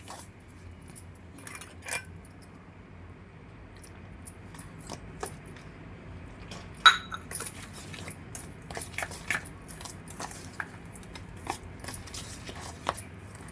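Lava cake batter being stirred with milk in a bowl: scattered light clicks and scrapes of a utensil against the bowl, irregular and close, with soft wet mixing underneath and no talking.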